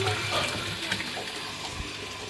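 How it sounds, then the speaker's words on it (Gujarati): Steady rushing water, like a tap or pipe pouring, runs throughout at moderate loudness with no clear speech. "પાણી આવે છે પાણી આવે છે"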